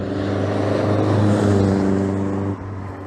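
A modified MGB sports car drives past with a steady, loud engine drone that swells and then eases off as it recedes.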